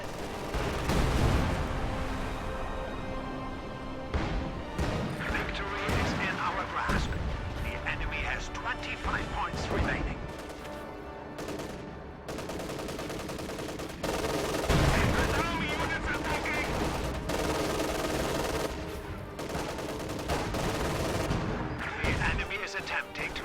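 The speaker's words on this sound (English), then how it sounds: "ML-20 firing in the center is dealing only minor damage" ML-20 howitzer firing in a video game battle, heavy booming artillery blasts mixed with sharp gunshots and machine-gun bursts, loud and repeated across the whole stretch, with a commentator talking over it.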